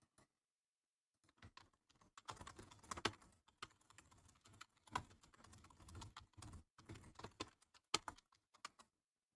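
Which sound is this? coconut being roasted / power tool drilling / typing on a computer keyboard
typing on a computer keyboard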